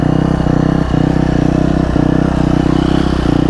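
A Husqvarna FC250 dirt bike engine held at the rev limiter, a loud steady buzzing drone with a rapid pulsing stutter and brief regular cut-outs, close and continuous.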